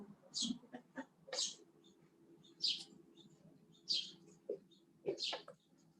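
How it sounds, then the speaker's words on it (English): Short bird chirps repeat at irregular intervals, fairly faint, over a low steady hum. "Listen to the birds sing."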